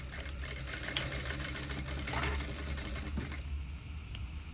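A sewing machine runs a short backtack at the end of a seam on a duvet cover or bedding, a close, steady motor hum with rapid stitching that tapers off near the end.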